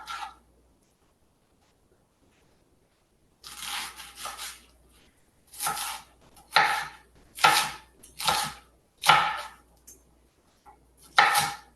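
Half of a large onion chopped with a knife on a board, a run of distinct close thuds in an uneven rhythm after a quiet opening, no voices.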